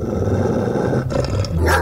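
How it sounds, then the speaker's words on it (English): A huge, angry dog growls and barks in a deep, rough rumble, loud and close, with a sharper burst near the end and no talking. "Cue the angry barks."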